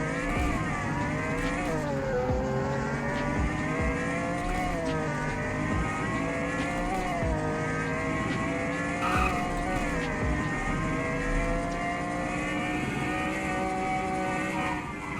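A six-speed car in the Greenville driving game revs and accelerates toward a top speed of about 240, its engine note climbing and dropping through gear shifts, loud and constant with no talking.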